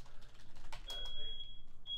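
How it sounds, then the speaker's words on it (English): An electronic beep, a steady high tone starting partway through, breaking off briefly and then returning, heard under background voices. "sorry about that beep"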